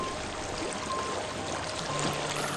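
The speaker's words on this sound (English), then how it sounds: "I hear water." Flowing water in the video game Senua's Sacrifice streams and trickles as a soft, steady wash, moderately close and continuous, with no voices.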